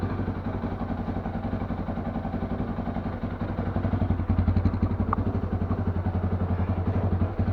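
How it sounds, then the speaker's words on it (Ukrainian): A 2022 Tekken 250 motorcycle with a carburettor idles cold while warming up, its engine chugging in a steady rapid thump close by, no throttle blips, no voices. "Не трогаємо ручку газу, даємо йому прогрітися ще хоча б хвилинку."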